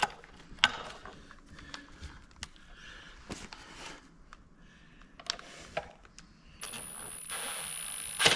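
A wrench clicks and ratchets while tightening a bolt on a Garmin fish-finder mount on a boat. The clicks are soft, close and irregular, with a brief whirring hum near the end.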